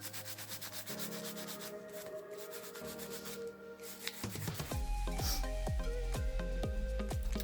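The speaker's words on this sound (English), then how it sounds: "You can lightly file or you can buff." Light filing and buffing of fingernails during a nail-foil manicure: soft rhythmic rubbing strokes, close and quiet, shifting to quicker, brisker scrapes in the second half.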